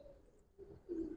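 A black-tailed pigeon gives a soft, low cooing call close by, swelling louder near the end of the brief burst, with no voices.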